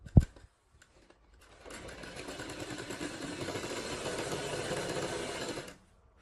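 An electric sewing machine stitches a kachhera, a Punjabi undergarment. A sharp click comes first, then a steady whirring run of about four seconds before it stops.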